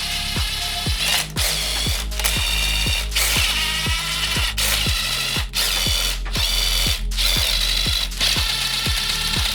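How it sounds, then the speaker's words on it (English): Ratchet wrench backing out 12mm transmission casing bolts on a Mazdaspeed 3 gearbox during a rebuild, with rapid close clicking pawl strokes in a steady rhythm, pausing briefly between pulls, loud and alone. "so we've got all the transmission casing bolts removed all along the circumference here"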